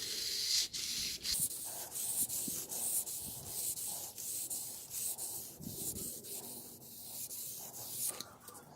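Close, rhythmic back-and-forth strokes of sandpaper rub over a car's clear coat to flatten paint runs, a steady scratchy rasp repeating about twice a second with no talking.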